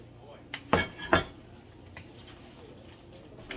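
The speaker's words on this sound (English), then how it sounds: "It's a nice good stir." Honey walnut shrimp being stirred and tossed in sauce in a pan, with a few close metallic scrapes and clinks of a utensil against cookware, then quieter movement.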